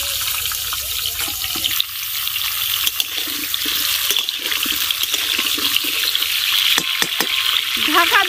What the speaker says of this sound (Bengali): এবার মিডিয়াম আঁচে পটলগুলো ভালো করে ভেজে নিব।